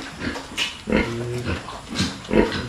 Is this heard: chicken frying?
no